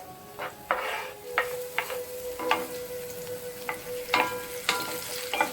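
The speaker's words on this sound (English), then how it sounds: "I like to add my garlic and pepper first to get them fried out in the oil." Garlic and pepper fry in hot oil in a pot, a soft steady sizzle broken by several sharp scraping strokes of a stirring utensil, close and fairly quiet.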